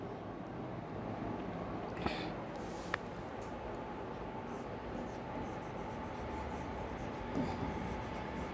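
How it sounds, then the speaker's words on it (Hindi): A pen writes a definition of physical changes by hand, making faint scratchy strokes under a steady hiss of background noise, with a few brief tapping clicks. "अब यहाँ पर हम डेफिनेशन लिखेंगे फिजिकल चेंजेस की"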